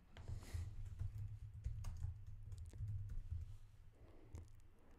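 Quiet typing on a computer keyboard, a steady run of soft key clicks of uneven rhythm, close by and heard alone.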